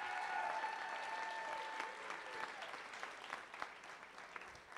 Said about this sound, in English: Another round of applause for Libby.